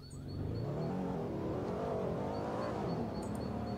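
A Lamborghini engine in a car crash video game, revving up steadily from idle into a rising, sustained roar that holds loud and close with a faint whine above it.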